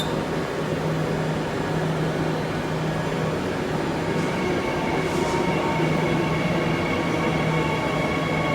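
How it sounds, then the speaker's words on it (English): A Transperth MAN B-Train electric train sits at Elizabeth Quay station, a loud, constant rumble and hum filling the space with a faint high squeal near the end. "I don't know how long will this train take to leave."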